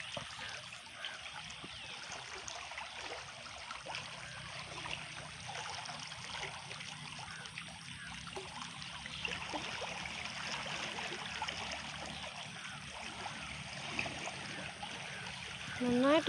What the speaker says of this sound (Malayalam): ചുഴി കാണാൻ പറ്റുന്നുണ്ട് ഇങ്ങനെ വെള്ളം ഒഴുകി വരുമ്പോൾ.